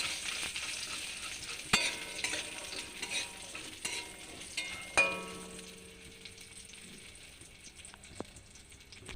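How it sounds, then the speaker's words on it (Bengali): Lentil dumplings (bori) frying in oil in a wok, a soft hiss of sizzling oil with a few sharp clinks and scrapes of a spatula, close and fading quieter toward the end. "প্রথমে কড়াইতে তেল দিয়ে বড়িগুলো লাল লাল করে ভেজে নিলাম।"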